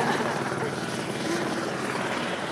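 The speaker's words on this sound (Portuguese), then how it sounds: "olha só que helicóptero lindo, aqui. helicóptero maravilhoso." A helicopter passes overhead with a loud, steady rotor thrum and engine roar filling the whole stretch, with people talking beneath it.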